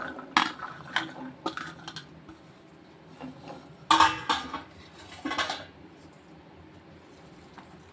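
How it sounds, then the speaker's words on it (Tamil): Chopped green beans tumble into a metal cooking pot, giving a series of close clattering knocks and rattles, with quieter pauses in between. "இப்போ ஒரு பாத்திரத்தில் நம்ம வெட்டின பீன்ஸை போடுறோம்."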